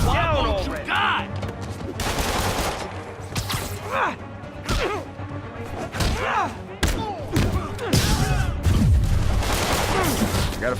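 Enemy gunfire in Marvel's Spider-Man, bursts of shots and heavy thuds mixed with game music and voices, loud and busy throughout.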